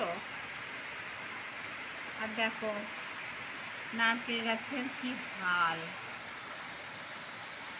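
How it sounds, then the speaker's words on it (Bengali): Steady rain hisses softly and evenly in the background while a person speaks a few short phrases over it. "দেখো কেমন বৃষ্টি হচ্ছে, বৃষ্টির আওয়াজ শুনতে পাচ্ছ?"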